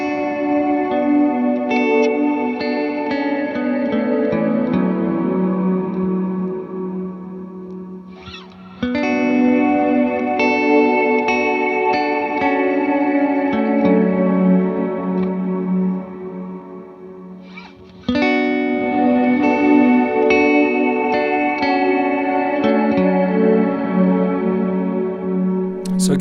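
Ambient electric guitar played through a big reverb with pre-delay: sustained chords ring into a long, shimmering wash of echo. Phrases restart at two points, each with a crisp strum, and there is no talking.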